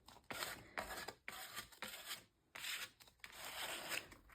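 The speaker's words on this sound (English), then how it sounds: "it's actually scraping through the blue as well" A tool is dragged through wet, opaque paint over a blue layer, scraping the surface in a series of rough, rasping strokes with short gaps between them. The strokes are close and fairly loud, and no one speaks.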